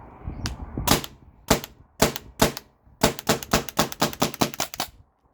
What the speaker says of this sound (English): I just wanted to dry fire this.